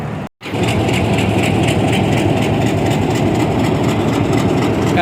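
An HBU 20 diesel locomotive (HBU 208043) idles at the head of the Mehar Express at Multan Cantt station, a loud, close, steady low rumble with a throbbing mechanical texture. It holds unbroken after a brief dropout near the start.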